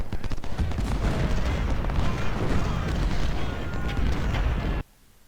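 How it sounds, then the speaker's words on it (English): 24-pounder howitzers and massed gunfire in a Civil War battle game roar as a dense, continuous barrage of booms and crackling shots, loud and unbroken for nearly five seconds before cutting off abruptly. "24 pounder howitzers, shoot at many"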